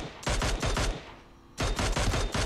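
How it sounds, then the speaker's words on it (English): Gunfire from the battle royale shooter PUBG: rapid bursts of loud, sharp shots in a fast rhythm, a brief pause, then another quick volley, with no talking. "But I attempted to shoot him while jumping off."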